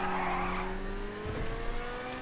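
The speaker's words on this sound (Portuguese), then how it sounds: "Eita, drift." A car drifts in GTA Online, its tires squealing and skidding under a steady engine drone that shifts pitch as it slides, loud and continuous.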